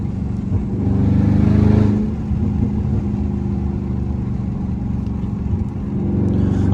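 Dodge Charger Scat Pack engine pulling under throttle on a backroad, a steady low rumble that swells into a louder rev for a moment, then settles back to an even cruising drone.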